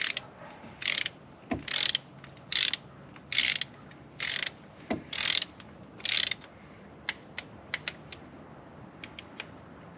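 A torque wrench ratchets while tightening spark plugs on a 5.7 Hemi, giving bursts of rapid clicking in short regular strokes, then a run of sparser single clicks, close and clear with no talk.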